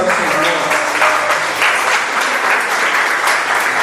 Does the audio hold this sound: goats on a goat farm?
no